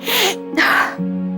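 One sharp sneeze comes close up, a quick intake then a burst, in an indoor drama scene. A low hum follows it.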